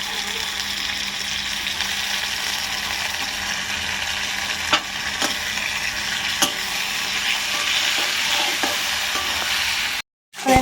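Ginger-garlic paste sizzles and fries with onions in a pan, a steady close crackling hiss with occasional stirring clicks, broken by a brief silent gap near the end.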